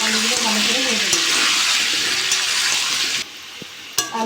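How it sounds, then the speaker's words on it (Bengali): Potatoes frying in hot oil with turmeric and salt, a loud steady sizzle with stirring; the sizzle drops sharply near the end, followed by a few utensil clinks. "হলুদ দিয়ে দেবো, লবণ দিয়ে দেবো, আলুগুলো ভালো করে ভেজে দেবো।"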